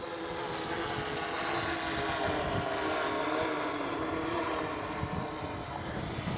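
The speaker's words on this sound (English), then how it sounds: "You can just fly the copter around and let it track you." A DJI Inspire 2 drone flies overhead as a steady, continuous propeller whine and buzz that holds at an even level throughout, with no talk.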